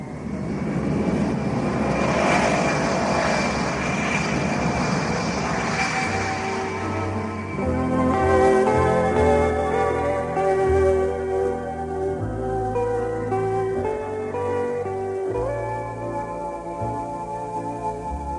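Engines of a British Airways airplane, used as a sound effect in a radio drama, roar in a loud, steady drone that swells and then settles, with music entering partway through.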